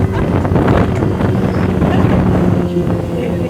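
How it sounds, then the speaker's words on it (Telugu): Speedboat ride on the water in Goa, a loud steady rush of wind buffeting the microphone over a low engine drone, with no clear voices. "స్పీడ్ బోట్ రైడ్ చాలా బాగుంది."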